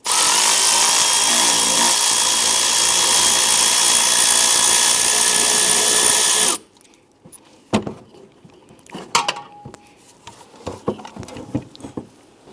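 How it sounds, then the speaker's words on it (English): Electric impact tool loosening and removing a 15mm tensioner bolt on a 2002-2008 Dodge Ram 1500, a loud continuous whirring rattle for about six seconds that stops abruptly, followed by faint clinks and handling noises. "We're going to use our electric tool here to go ahead and loosen and remove that bolt."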